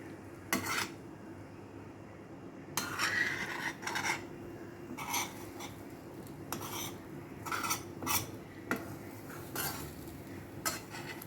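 Eggs are stirred gently in a pan with garlic butter, with quiet scraping and clinking of a utensil against the pan in irregular strokes over a low background sizzle, and no talking.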